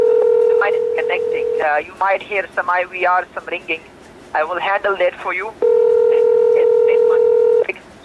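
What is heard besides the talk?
telephone line connecting, IVR tones and ringing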